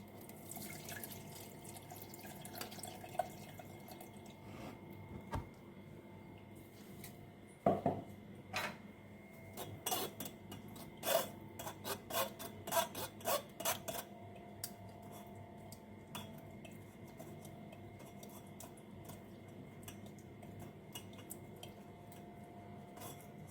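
Homemade summer cooler juice strained through a kitchen strainer: trickling liquid and faint scraping and tapping against the strainer and vessel, with a busier cluster of clinks and drips midway, close and fairly quiet, no talk.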